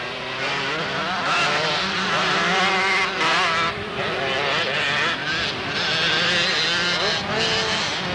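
Motocross motorcycles racing on a dirt track at Bathurst, NSW, in 1990, a loud, continuous snarl of several engines revving and shifting, rising and falling as bikes pass nearby.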